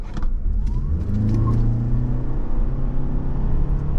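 A 2023 Toyota RAV4 XLE Hybrid accelerating hard from a standstill, with a steady engine drone that climbs in pitch. It is heard from inside the cabin with road rumble and no talking.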